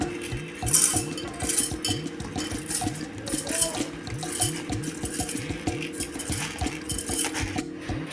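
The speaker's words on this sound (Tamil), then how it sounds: "தண்ணியை வடிகட்டிட்டு ஒரு மிக்சி ஜாரில் சேர்த்துக்கலாம்." Water trickles and splashes as soaked rice is drained, then the grains shift and patter into a mixer jar, with light clinks of metal and glass.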